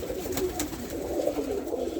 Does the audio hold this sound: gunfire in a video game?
no